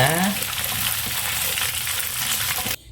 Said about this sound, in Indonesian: Dan Lik, ini gorengnya sampai tahap begini saja ya.